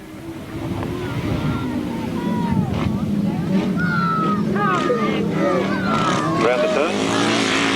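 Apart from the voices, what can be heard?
grasstrack motorcycles racing, 1992 Scintillator 600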